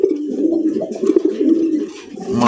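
Rajgolla pigeons coo close by in low, rolling, repeated calls that continue steadily with small pauses and no one talking.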